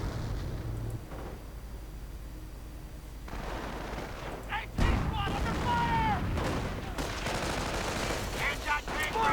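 Gunfire and explosive impacts crack through a real-time strategy battle, with sharp bursts and rumbling blasts scattered over the clip, partly under a commentator's voice.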